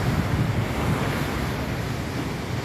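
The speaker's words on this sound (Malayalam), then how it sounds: "കടലിൻ്റെ തീരം" Sea waves wash steadily onto the shore at Kappil beach in Kerala, lined with coconut groves, as a continuous loud surf roar mixed with wind buffeting the microphone, with no voices.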